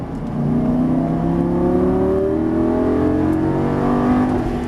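A Lamborghini Gallardo LP550 on a racing circuit accelerates hard, its engine note climbing steadily in pitch through a sustained, loud, close roar with no gear breaks.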